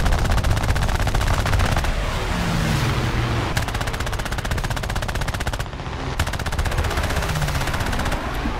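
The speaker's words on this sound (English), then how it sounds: "you gotta use your ears to hear when you're getting shot at" Rapid machine-gun bursts from aircraft in a War Thunder dogfight, with repeated rattling volleys over a constant engine drone. The bursts are fairly loud and continuous with brief gaps and no talk.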